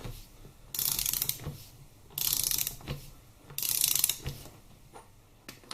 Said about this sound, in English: I've locked the shafts and we'll tighten these nuts up